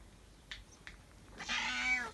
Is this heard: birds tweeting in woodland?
no